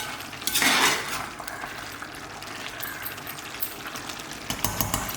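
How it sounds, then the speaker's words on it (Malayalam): Chicken curry in a pot is stirred with a metal spoon, giving a loud clatter at the start, then a faint bubbling hiss and light scrapes, ending with a couple of clinks as a lid goes on. "ഇതൊന്ന് ഇളക്കി കൊടുത്തിട്ട് അടച്ചു"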